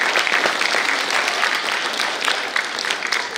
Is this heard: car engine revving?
no